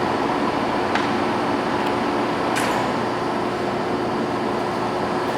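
A Ticino sliding bed gap lathe, 33"/62" swing by 118"/181", running at low speed: a steady, unbroken mechanical hum and whir with a couple of faint clicks, no talking.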